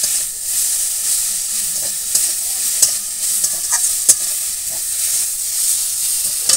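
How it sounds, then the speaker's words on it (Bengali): Potatoes and raw green tomatoes fry with spices for a village-style small-fish chorchori, hissing loudly and steadily in the pan while a spoon scrapes and stirs with scattered soft knocks; no one speaks. "এবার ভালো করে আলু আর টমেটোটাকে এর সঙ্গে মিশিয়ে নেব"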